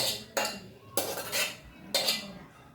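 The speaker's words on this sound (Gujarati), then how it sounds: "આવી રીતે આપણે મિક્સ કરી દઈશું જેથી કરી આપણે તુવે ટોઠામાં લસણનો સ્વાદ એક ધારો સરસ આવે" Green pigeon peas (tuvar) cooking with garlic, stirred in a pot with a metal spoon: three distinct scraping strokes, each with a clattering bite and then a soft rustle, close and clear.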